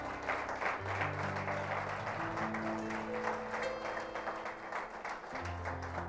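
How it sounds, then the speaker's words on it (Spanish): A church congregation applauds during a sermon, a brisk wash of steady clapping throughout, with organ or keyboard chords sounding beneath it. "Daré un aplauso al Rey."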